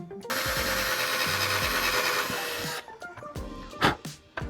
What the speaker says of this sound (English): Just screwing or drilling really slow.